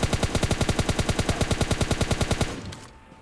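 Rapid automatic gunfire from PUBG Mobile Lite, a fast even burst of about two dozen sharp shots over two and a half seconds that then stops and fades into a short echoing tail, with no talk.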